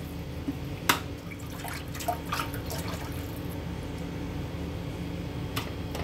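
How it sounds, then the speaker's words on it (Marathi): Water is poured into a cooking pan for jaggery lapsi, a steady close trickle and splash with a few sharper drips near the start, heard alone with no talking. "1 वाटी लापसीसाठी आपल्याला अशा 3 वाटी पाणी टाकायचं आहे।"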